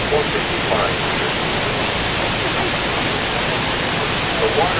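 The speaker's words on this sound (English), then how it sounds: "The water that flows over the falls comes from four of the five Great Lakes." Niagara Falls roars as a dense, constant rush of water, loud and unbroken, with faint voices barely audible beneath it.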